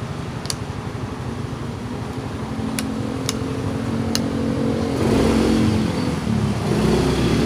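Yamaha Mio i 125s fuel-injected scooter engine idling steadily up close, a low continuous drone that swells slightly louder toward the end, with a few faint clicks and no talking.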